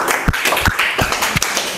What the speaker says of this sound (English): let us clap some hands for ourselves